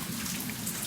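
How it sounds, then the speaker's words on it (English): Light drizzle falls steadily, a soft even hiss of fine raindrops with no distinct impacts, quiet and continuous throughout. "The rain is not as heavy anymore, it's just drizzle"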